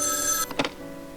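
Telephone ringing in the horror video game Spirit Hunter: Death Mark II at a mansion late at night, a bright electronic ring that cuts off abruptly with a brief clatter, fairly loud and close, no voices.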